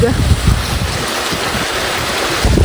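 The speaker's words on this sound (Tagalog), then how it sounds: "Gawa ng malakas po ang agos ng tubig." Strong water rushes through a dam in a constant broad roar, with gusts of wind hitting the microphone.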